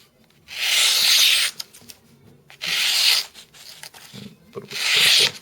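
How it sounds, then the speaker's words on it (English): A Spyderco Squeak knife with its factory edge makes three rasping cuts in a cutting demonstration, each a loud scraping stroke about a second long, separated by brief pauses. "let's do a cutting demonstration here. This is working with the factory edge."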